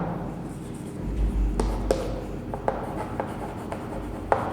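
Marker writing on a board during a school biology lesson on respiration, soft scratchy strokes broken by a few sharp taps, heard up close with no talk.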